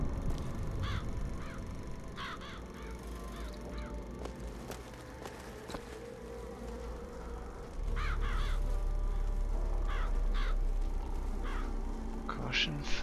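Crows in the BioShock Infinite video game caw in repeated short bursts, clustered in groups across a steady background hum of game ambience and music. The calls come at moderate loudness and recur throughout.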